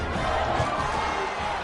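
A home crowd at a football game roars steadily after a score, a dense, continuous wash of cheering at even loudness with no distinct voices standing out.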